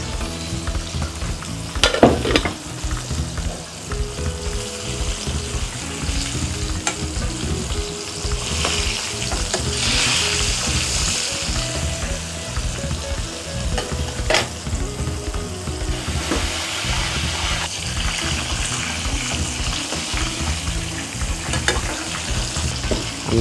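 An okra stew cooks in a pot after stock is added, with a steady sizzling, bubbling hiss and occasional stirring scrapes and clinks over about twenty seconds, with no voices.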